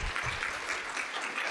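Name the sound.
audience applause for a panel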